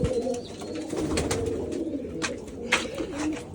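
Pigeons cooing close by in a loft, soft repeated throaty coos over low background noise with a few faint chirps, no talking.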